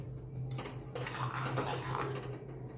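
Homemade Gujarati rajwadi khichdi being served onto a plate, with close metal utensil clinks and scraping against the dish over a steady low hum, no talking.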